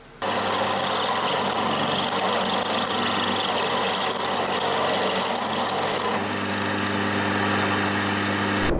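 A steady, loud power-tool whine and grinding rasp runs continuously as a drill bit bores a small recess, with no talking.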